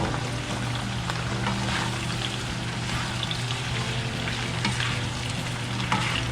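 Bok choy and cabbage frying in a pan, a dense steady sizzle with occasional stirring, close and loud, with no one speaking.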